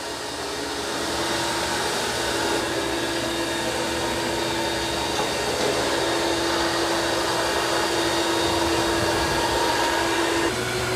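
A Eufy X8 Pro robot vacuum with self-empty station runs across a floor, giving a steady, even whir with a constant tonal hum throughout, no voices.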